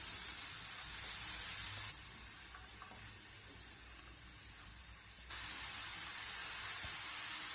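Chopped mixed vegetables sizzle and hiss steadily in a hot frying pan over a gas flame, a loud continuous spray-like frying noise that dips quieter for a few seconds in the middle before swelling back up.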